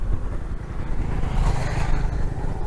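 Motorcycles on a rough road on a half-wild island, a continuous loud engine rumble passing close by.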